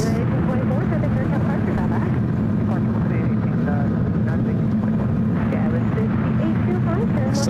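An airliner on arrival at San Francisco International Airport gives a steady, loud low engine roar that holds throughout without clear rises or fades.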